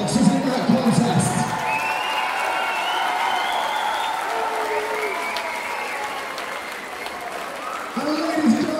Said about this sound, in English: a huge round of applause to both boxers in that contest